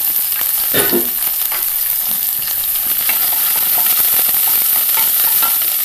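Garlic and chopped mild green chillies frying in hot oil for a tomato chicken curry, a loud continuous sizzle close by with a few stirring clicks and scrapes early on.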